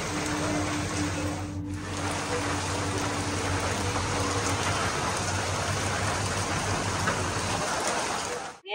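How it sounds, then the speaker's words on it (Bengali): Heavy rain pours down steadily and loudly, a dense continuous hiss of drops on surfaces with a low hum underneath, lasting throughout without a break. "এই দেখো ভালোই জোরে কিন্তু বৃষ্টি হচ্ছে।"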